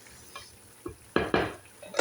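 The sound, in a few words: cooking vegetarian curry in a pan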